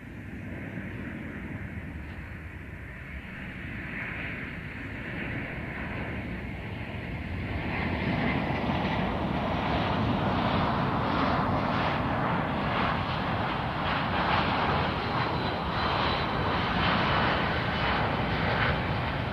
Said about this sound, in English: the C-17 is extremely maneuverable at both high and low speeds